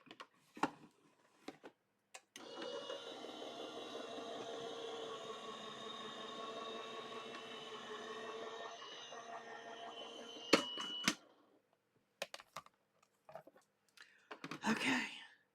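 An Anna Griffin die-cutting machine running while making a card, a steady mechanical rolling hum lasting about eight seconds, preceded and followed by a few sharp clicks and handling knocks, with a bit of rustling at the end.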